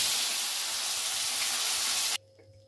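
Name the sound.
katla fish pieces frying in hot oil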